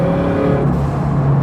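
Drivetrain whine and road drone from a turbocharged Subaru BRZ with an FA20 engine, a steady loud hum close inside the cabin while driving, with no talking.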